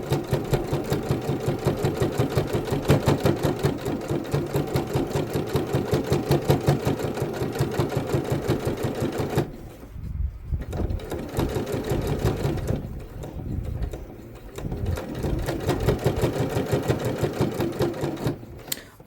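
A basic old sewing machine stitches a fabric book sleeve in a continuous rapid mechanical chatter, close and steady, with two brief slowdowns partway through.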